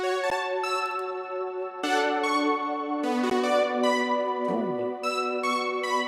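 A synthesizer plays arpeggiated chords in a steady, sustained pattern, with notes rippling up and down continuously and no voices.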